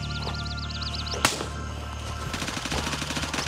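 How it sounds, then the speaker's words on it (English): Gunfire rings out in the video game Gray Zone Warfare: a single sharp, loud shot cracks close by, followed by a quicker run of fainter shots beneath steady game background noise. "Somebody's shooting at me."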